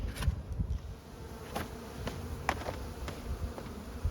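Honey bees buzzing around beehives at close range, a steady drone with individual bees passing near, soft and continuous with no voices.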